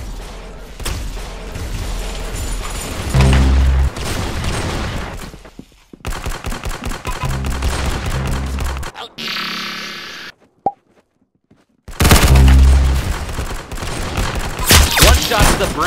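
Rapid bursts of video game gunfire, loud and dense, in several volleys with brief gaps and a sharp single crack near the end, heard alongside a voice talking.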